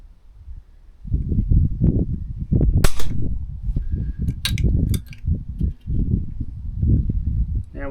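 An air rifle fires pellets in an outdoor accuracy test, several sharp cracks spaced a second or so apart over a continuous low rumbling background, close and fairly loud.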